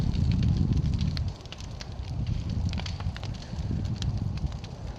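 An outdoor fire burning brush and dried pine straw on a windy day, a continuous low roar with scattered soft crackles and wind rumble throughout.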